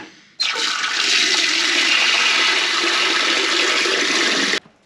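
Steady, loud rush of water pouring from a hot water spigot in a barn into a bucket, starting abruptly and running continuously for about four seconds before cutting off.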